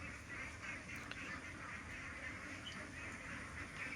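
A flock of Chinese ducks kept in a fenced pen beside a pond quacks continuously, a dense overlapping chorus of calls close by with no talking.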